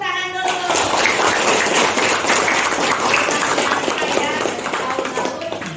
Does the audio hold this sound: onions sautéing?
no